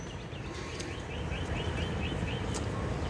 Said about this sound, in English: It's always wonderful to hear the birds singing